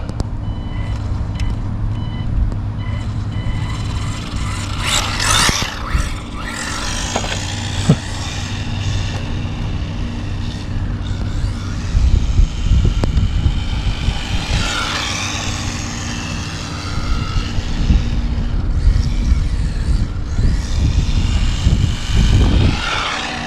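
A Losi NASCAR RC car drives, its electric motor giving a steady high whine that rises and falls with throttle over a constant background hum, loud and close throughout, with no talking.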